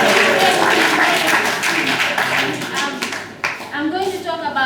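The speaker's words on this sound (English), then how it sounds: "let's give her a round of applause" Clapping from a graduation ceremony audience at a mentorship academy, uneven and moderately close, fading and then picking back up, with voices talking over the hands.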